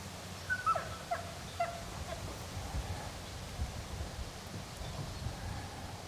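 A hunting dog moving back through brush while retrieving a bird, with faint whimpers and yips, rustling steps and outdoor ambience, fairly distant and soft.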